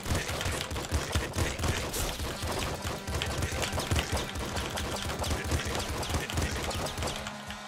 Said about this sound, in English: we got ourselves a shotgun